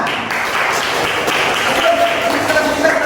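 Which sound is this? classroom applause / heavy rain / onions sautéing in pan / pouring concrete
classroom applause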